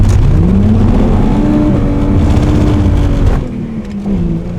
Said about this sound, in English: That feels like it's revving higher as well.